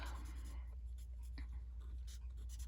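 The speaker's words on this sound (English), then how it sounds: "I'm just going to color in the leaves." Felt-tip marker strokes coloring in paper leaves with Old Olive ink for a Stampin' Up! daisy papercraft project, a soft scratchy scribbling that comes in short close bursts against quiet room noise.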